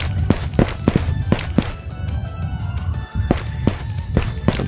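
Footsteps walk around inside a building in the video game Ghosts of Tabor, a steady series of dull, thudding steps with a pause midway, heard alone against low background ambience.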